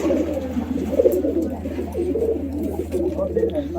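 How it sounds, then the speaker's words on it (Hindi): Pigeons in a rooftop pigeon loft make soft, repeated low cooing, with a steady low hum running underneath throughout. "ये लालदबाज भाई का मेन कबूतर है जो सुबह 7 बजे से शाम को 7 बजे तक उड़ता है।"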